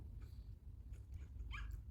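A dog in a video game whimpers and yips faintly over a low, steady rumble, short high cries near the end of a quiet two seconds.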